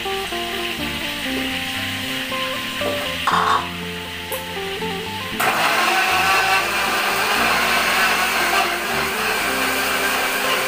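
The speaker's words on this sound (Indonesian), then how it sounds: "Kita mau blender ni," A kitchen blender grinds sautéed spice paste for Malaysian ayam masak merah, a steady whirring motor that grows louder and harsher partway through, with no talking.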